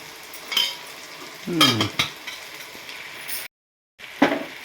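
Coconut mutton gravy with chili powder frying and being stirred in a pan, heard as intermittent scraping and clattering stirring strokes over a low sizzle, with a short silent break near the end.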